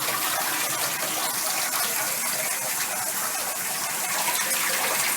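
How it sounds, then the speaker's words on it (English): Water gushes and drains steadily inside a utensils tunnel tote washer, an MLT830 industrial machine, producing a continuous broadband rush that stays loud and even throughout without pause. "There's also a safety here so that when the water goes over, it drains."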